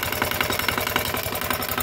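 A D16 diesel model engine runs steadily with a rapid, even knocking chug, loud and close throughout, with no talking.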